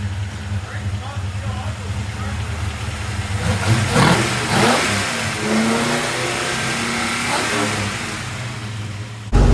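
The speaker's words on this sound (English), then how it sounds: "we're cruising with the new engine" A 1957 Chevy's new engine revs up and accelerates, a steady mid-pitched drone swelling louder, with people talking over it.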